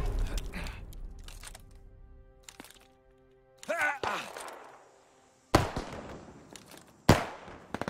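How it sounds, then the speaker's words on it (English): Mortar barrage explosions in Call of Duty: Vanguard: a few sharp, loud blasts at irregular intervals, each with a crackling tail, and quieter impacts and game noise in between. "I just killed a dude with a mortar, and now I've got a mortar barrage"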